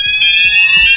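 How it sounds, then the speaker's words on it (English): A party alarm going off in a video game: a loud, steady, high electronic alarm tone that sounds alone for about a second, like a fire alarm. "We've set off the party alarm."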